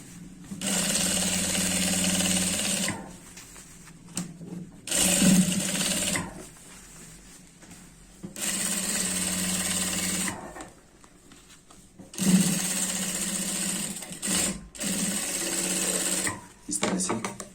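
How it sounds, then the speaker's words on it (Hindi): An electric sewing machine stitches a trouser waistband in repeated loud bursts of rapid whirring, several seconds each, separated by pauses filled with handling noise and occasional talking. "यहाँ पर एक लब की सिलाई लगा लेते हैं"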